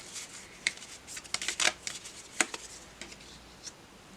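Tarot cards shuffled and pulled from the deck, a run of soft papery riffles and quick flicks with a few sharper snaps, close and fairly quiet, with no talking.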